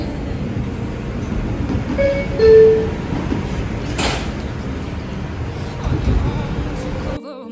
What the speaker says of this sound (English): This is a Manhattan-bound 5 local train.